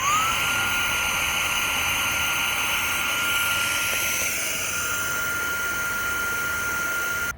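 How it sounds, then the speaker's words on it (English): Fanttik X9 Cross battery-powered portable pump running steadily while inflating from empty, a loud continuous motor whine with a high tonal hum that holds unbroken throughout, alone with no talk. "So we'll turn it on and see how long it takes to pump this thing up."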